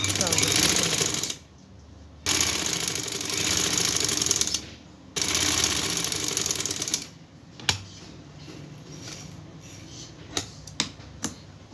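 Sewing machine stitching trouser fabric, a loud rapid mechanical chatter in bursts that stop and restart, followed by quieter clicks and handling noises near the end.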